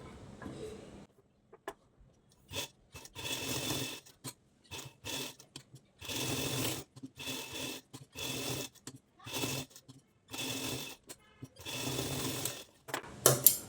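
A sewing machine stitches around the edge of a plain blouse in short bursts of rapid whirring. The bursts run from under a second to about a second long, separated by quiet pauses, and the machine sounds close.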